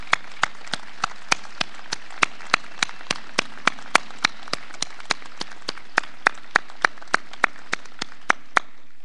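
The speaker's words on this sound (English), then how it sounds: "let's give them a round of applause." Graduation ceremony audience applauding active military members who stand, heard as a steady run of sharp, evenly spaced claps, loud and close, with no talking over them.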